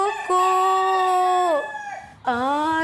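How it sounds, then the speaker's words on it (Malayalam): A rooster crows in a long, drawn-out call that holds steady, then slides down at the end. After a brief pause a second crow begins, loud and close. "പൂവൻകോഴി എങ്ങനെയാണ് ശബ്ദം ഉണ്ടാക്കുന്നതെന്ന് ടീച്ചർ കാണിച്ചു തരട്ടെ"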